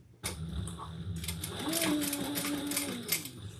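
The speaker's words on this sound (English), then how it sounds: "let's sew it to itself" A sewing machine stitches a sling pack in one close, continuous run of fast, rattling stitches that starts abruptly and holds steady to the end.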